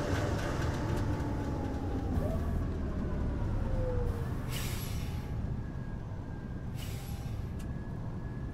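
A bus engine and gearbox drone in the OMSI 2 bus simulator game, a steady low rumble with a rising and falling whine and brief hissing bursts, sounding close and continuous.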